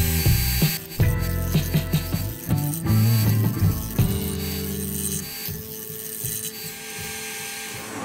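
A power tool cuts wood for a clover-shaped catch-all tray, giving a close, loud mechanical whine whose pitch shifts and stutters as the blade bites in short passes, then eases into a steadier run.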